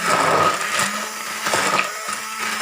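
A food processor runs in a steady mechanical whir while mashing cooked corn for corn soup, its motor droning loud and continuous with slight surges in pitch throughout.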